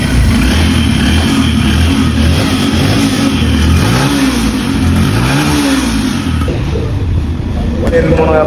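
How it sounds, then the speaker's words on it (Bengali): A motorcycle engine, just worked on with its injectors cleaned, runs close by, rising and falling in several revving swells over a continuous rumble. "আমি গাড়িটা স্টার্ট করব"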